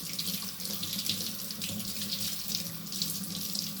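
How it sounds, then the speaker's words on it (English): Tap water runs steadily into a sink as fresh fish are rinsed, a continuous close hiss and splash with no talking. "So you basically rinse the fish real good."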